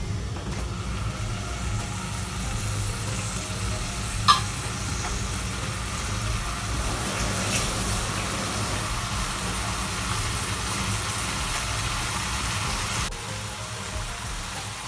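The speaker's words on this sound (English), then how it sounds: "Now we're going to put bit of olive oil in a pan. We put our cauliflower steak there." Cauliflower steak frying in olive oil in a pan, a steady soft sizzle running throughout with a single sharp tick partway through.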